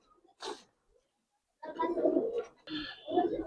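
Coloured pigeons coo close by in a quiet setting, a short soft call followed by longer throaty rolling coos in two bursts.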